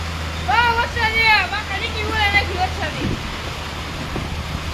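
Heavy night rain pours down in the Halvad area as a continuous, rushing wash of noise, with someone speaking over it for the first few seconds.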